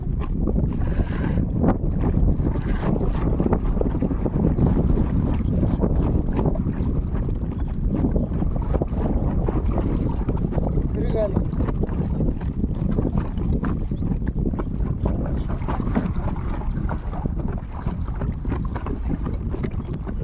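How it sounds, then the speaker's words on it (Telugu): Strong wind buffets a small fishing boat at sea, roaring steadily into the microphone with water and hull noise beneath, continuous and loud throughout, with a brief spoken word at one point. "అంత ఎక్కువగా గాలి అయితే తోలుతుంది ఈరోజు."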